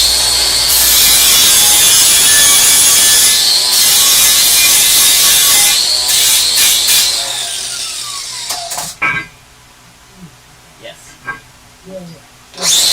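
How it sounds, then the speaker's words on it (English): Power grinder working a metal part flat during a core support build, loud sustained abrasive whine for about eight seconds, then stopping to leave quieter handling noises and brief clatter. "We'll grind it flatter."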